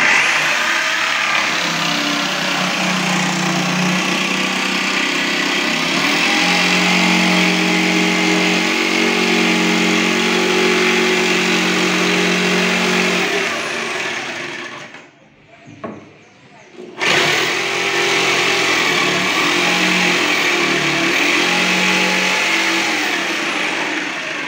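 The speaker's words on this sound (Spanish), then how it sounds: "Vamos entonces a cortar nuestra tabla que hemos trazado" A power saw cuts through a marked wooden board for closet boxing, roaring loud and steady close by for about fifteen seconds, briefly stopping, then starting again at full volume.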